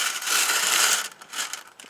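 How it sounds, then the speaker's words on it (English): A plastic bingo cage from a dollar-store bingo set is turned clockwise and a ball drops out. A dense rattling rustle lasts about a second, then a shorter, quieter burst follows. "Let's turn it clockwise one time."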